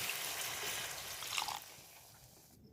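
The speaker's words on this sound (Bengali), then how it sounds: "এবার আমি জল ঢেলে দিচ্ছি" Water is poured into chicken curry with potatoes in a pot, a soft, close liquid splash and gurgle that fades after a couple of seconds, with no speech.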